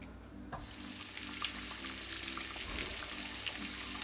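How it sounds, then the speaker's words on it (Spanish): Breaded chicken frying in hot oil, a steady close sizzle and crackle that swells just after the start and keeps hissing evenly throughout, with no talk. "ya puse el pollo a freír"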